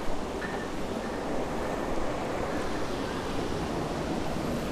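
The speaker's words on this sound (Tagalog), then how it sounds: "Lakas ng agos niya, oh." Steady, strong rushing water from a clear natural spring roars continuously and fairly close, a dense broadband flow with no talking.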